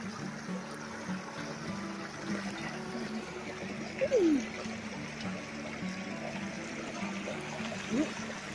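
Steady rushing of river water, a continuous broad wash of sound with no voices over it.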